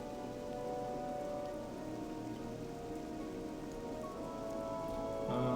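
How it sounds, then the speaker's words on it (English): Steady rainfall in World of Warcraft pattering evenly across the surface, a continuous wash of drops at an even level with no voices, swelling slightly near the end. "It started raining."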